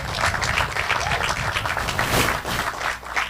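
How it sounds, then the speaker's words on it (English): Steady, dense applause from an audience at a joint press conference, a continuous wash of many hands clapping at moderate loudness for over three seconds with no voices over it. "please give a round of applause for the man"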